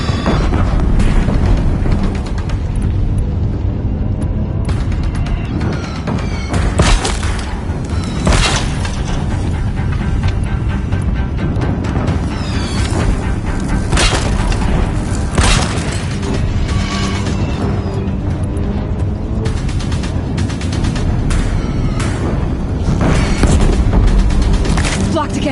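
Deathbringer war machines in Horizon Zero Dawn blasting a bridge with continuous heavy booms, bursts and explosions, a loud dense barrage with mechanical clatter throughout.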